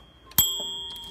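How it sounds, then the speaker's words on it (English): The carriage bell of an Olympia SM8 manual typewriter gives one loud, bright ding that rings on and fades slowly, preceded by faint mechanical clicks. "you can hear it's got a nice loud bell"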